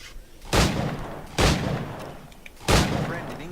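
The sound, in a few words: gunfire from firearms in the video game Black Flag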